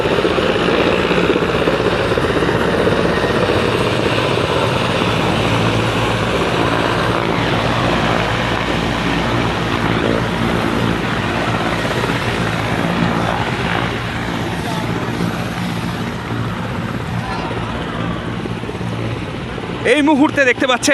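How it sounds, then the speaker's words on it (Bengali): A helicopter arriving and landing at Arambagh, its rotor and engine roaring steadily and loudly throughout, with faint voices underneath. "দেখতে পাচ্ছেন হেলিকপ্টার এসে কিন্তু পৌঁছে গেছে আরামবাগে"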